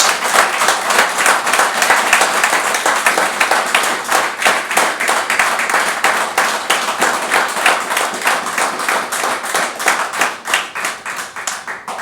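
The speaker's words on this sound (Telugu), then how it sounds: "మీరందరూ కూడా చప్పట్లు కొట్టారంటే" Audience applause at a company AGM motivational presentation, a dense, steady clapping from a large group lasting throughout, loud and close, with no talk over it.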